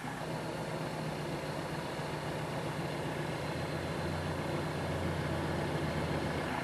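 A carburetor engine idles after its RPM adjustment screw has been turned down to the maker's specification, holding a steady, loud, close rumble with a faint hum and no change in pace.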